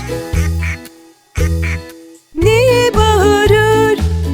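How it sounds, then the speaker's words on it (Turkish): Loud cartoonish duck quacks sound in short repeated phrases over a bouncy musical backing, part of a Turkish children's song about a farm. "Çiftliğinde ördekleri var"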